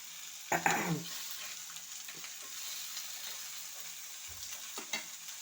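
Fish frying in a pan, a faint steady sizzle with a few soft clinks and a brief knock near the start, no talking.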